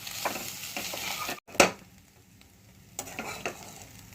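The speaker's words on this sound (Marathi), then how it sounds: "आता हे पण सतत आपण हलवून घेऊया आणि गुलाबीसर रंग येईपर्यंत सतत हलवत राहूया" Grated fresh coconut is stirred and roasted in a pan, soft scraping strokes and a faint dry sizzle, with a sharp clatter midway and a few quieter scrapes after, close but low in level.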